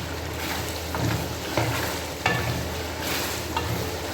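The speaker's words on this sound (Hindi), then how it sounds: "देखो तेज़ आंच पे पक रहा है सालन।" Mutton white karahi curry sizzles and bubbles hard over high heat, a steady frying hiss broken by occasional stirring scrapes and soft clinks, close and continuous with no talking.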